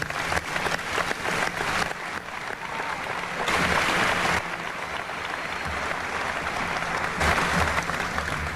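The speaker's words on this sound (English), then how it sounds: "Dr. Galen Weaver is our team doctor, and I'd like to give him a big round of applause." A round of applause from the audience at a university basketball team celebration, honoring the team doctor: many hands clapping in a continuous wash that swells and eases in waves, moderately loud and steady throughout.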